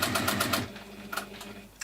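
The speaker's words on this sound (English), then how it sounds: "we're just going to top stitch down there" A sewing machine top-stitches fabric for a small pocket bag holder with a rapid close mechanical whir. It runs for under a second, then comes in shorter softer bursts.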